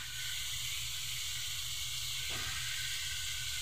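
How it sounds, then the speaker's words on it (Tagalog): Chopped chicken gizzards with onion leaves sauté in a pan, giving a steady, even hiss and sizzle that runs without a break at moderate, fairly quiet level, with no voices. "Igisa natin ng maayos to guys para masarap at mabango."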